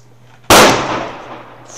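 A single loud, sharp firecracker bang in the video game Minecraft, a sudden burst that fades over about a second against a quiet background.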